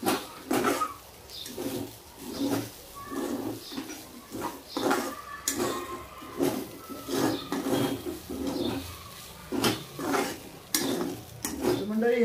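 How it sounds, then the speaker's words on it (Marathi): Egg Maggi noodles with coriander stirred and mixed in a pan, the spoon clinking and scraping against metal in uneven strokes, close by, with faint birdsong in the background. "आता हे सगळे पदार्थ आपण आता एकजीव करून घ्यायचे, मिसळून पूर्णपणे घ्यायचे।"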